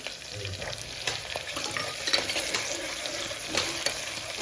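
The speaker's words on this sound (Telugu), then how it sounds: "దీంట్లో మిక్స్ చేసేయాలి వేసినా దీంట్లో బటర్ కూడా కొంచెం వేస్తున్నా" Stuffed eggplant curry with butter is stirred in a pan, giving a continuous close sizzle with repeated scraping strokes and soft clicks from the spoon, steady throughout with no voices.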